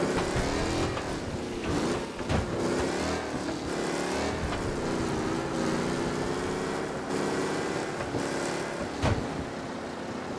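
An old car drives steadily in Mafia Definitive Edition, its engine droning continuously and loudly with slight shifts in pitch as it accelerates, and no talking over it.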